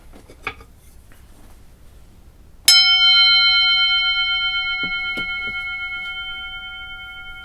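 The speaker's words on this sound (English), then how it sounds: "So I'm going to ring the bell." A single clear strike on a bell opens a pure, ringing tone that decays slowly for several seconds in a quiet room. A few soft taps and knocks come before and during it.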